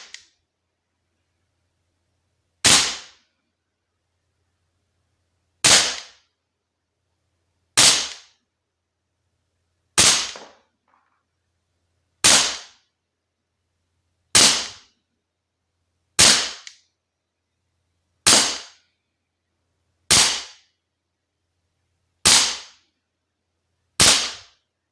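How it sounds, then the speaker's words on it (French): Ten sharp, crisp cracks from a Swiss Arms Colt 1911 Seventies pistol fired at a target 6 metres away, spaced roughly two to three seconds apart with silence between each shot. "On va essayer de faire des tirs posés hein"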